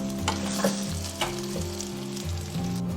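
Chinese kale and taro sizzle in hot oil in a pot as they are stir-fried, with a steady loud frying hiss and occasional scraping stirs, close and without talk.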